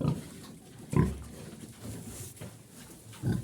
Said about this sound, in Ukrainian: Свиноматка їсть. Ломає бляху, хоче до поросят залізти сюди.